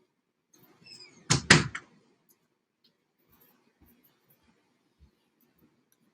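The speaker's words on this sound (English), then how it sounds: "Had to shut my door." A door being shut indoors at home, a quick double knock of latch and frame after a little faint rustling, followed by near silence.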